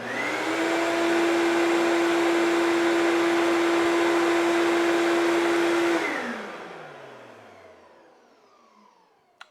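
A Ridgid 14-gallon, 6 horsepower shop vac runs with a steady, loud whine and airy roar, then is switched off and winds down, the pitch sliding away over several seconds, ending with a small click.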